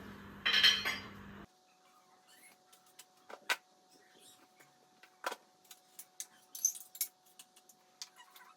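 Metal utensils and dishes clink and clatter in scattered sharp knocks as they are gathered, close and fairly quiet, after a short burst of louder noise at the start.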